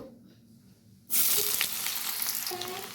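Chopped onions drop into hot mustard oil and burst into a loud, steady sizzle that continues without a break.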